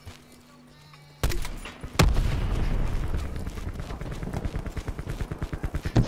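Automatic gunfire from Call of Duty: Black Ops 4 starts with a sudden heavy blast, then a long string of rapid, evenly spaced shots that rattle on loudly, close and alone.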